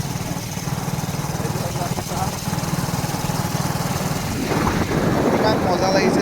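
A motorbike rides along Barpeta Road with a steady engine drone and wind rush, and a voice talks over the noise at times.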